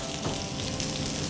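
Crushed spice masala sizzles with onions on a hot tava while making quick tava rice, a steady, close frying hiss with no talk over it.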